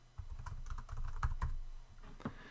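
Rapid typing on a computer keyboard, a close, uneven run of light clicking keystrokes with a few harder taps, heard alone with no voices.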